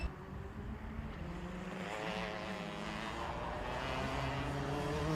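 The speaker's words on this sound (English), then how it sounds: "You just hear those cars popping and banging through these aces." Rotax Max Challenge DD2 karts race past with continuous engine drone and shifting pitch, a dense mechanical roar that stays loud throughout with rough crackling texture from popping and banging.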